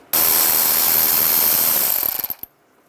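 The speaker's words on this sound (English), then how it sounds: "through this area right here, use a 7mm socket." A ratchet with a 7mm socket removes a screw on a 2010-2017 Chevy Equinox, giving a loud, rapid, steady run of clicks that slows into a few separate clicks before stopping.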